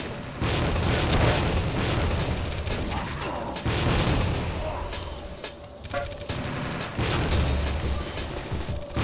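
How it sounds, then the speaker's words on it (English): A flame grenade goes off in the Tactical Ops video game amid heavy gunfire, with several loud booming bursts and rattling shots in close succession. "Throwing flame grenade!"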